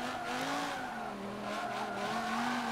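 Race car engine in Forza Motorsport 7 held at steady high revs with tire squeal as it oversteers and slides around the Dubai track, loud and continuous with no talk.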